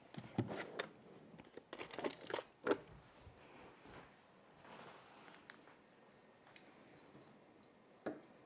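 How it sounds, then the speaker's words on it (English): Scissors cut through men's jeans denim on a table, giving a run of crisp snipping and crunching fabric sounds that come in bursts and then thin out to sparse single snips. "And I'll use my scissors."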